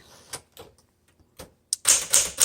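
Keys struck on a 1964 Smith Corona Sterling manual typewriter: a few separate, sharp clacks spaced apart, then a louder, denser burst of rapid mechanical strikes at the end, close and clear with no talking.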